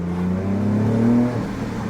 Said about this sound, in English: loud exhaust, it's cool.